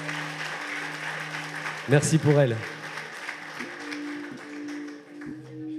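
An audience at the Miss NC 2020 pageant applauds a contestant, the clapping sitting low and diffuse beneath someone speaking French into a microphone, with a brief louder vocal burst midway.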